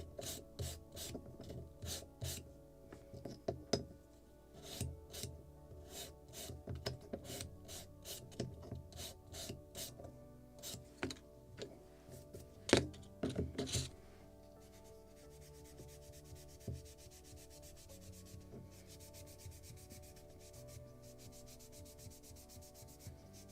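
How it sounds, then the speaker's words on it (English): Balsa wood edges being chamfered for a model lobster smack cabin, heard as quick, close rasping strokes in irregular bursts, then quieter, softer rubbing toward the end, with no talking. "And slightly to chamfer these edges."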